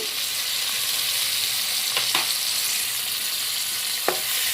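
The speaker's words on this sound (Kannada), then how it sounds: "ಟೊಮೊಟೊ ಕೂಡ ಚೆನ್ನಾಗಿ ಒಳ್ಳೆ ಮೆತ್ತಗಾಗೋವರೆಗೂ ನೀಟಾಗಿ ಫ್ರೈ ಮಾಡ್ಕೊಂಡ್ಬಿಡ್ತೀನಿ" Tomato fries in hot oil for chicken fried rice, producing a steady, close hiss of sizzling with a couple of brief clinks from stirring.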